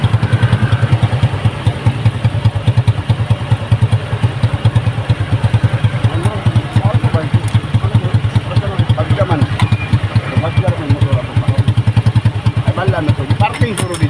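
Motorcycle engine idling close by with a steady rapid putter and clattery mechanical ticks throughout, while people talk over it outdoors.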